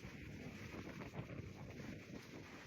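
Light wind blowing outdoors during a hailstorm, a steady soft broadband rush with faint gusty swells throughout and no voices.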